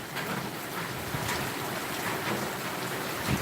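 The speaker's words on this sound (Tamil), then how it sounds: "தற்போது புதுச்சேரியில் அதீத கனமழையாக தற்போது பெய்து கொண்டிருக்கிறது" Heavy rain pours steadily in Puducherry, a dense, even hiss of downpour with occasional louder patters, continuous and fairly close with no voices.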